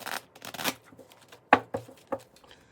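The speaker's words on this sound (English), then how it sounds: "you kind of just take the tarot deck and just kind of" A tarot deck is shuffled by hand, giving a few soft riffling bursts and light papery taps spaced irregularly, close and quiet with no voices.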